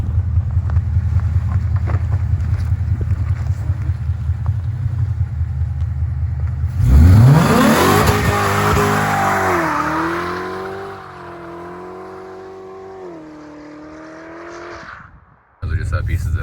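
Coyote V8-swapped car on a test drive: a steady engine drone, then revs climb sharply into a loud rising roar that holds and shifts through gears, with wind rumble throughout.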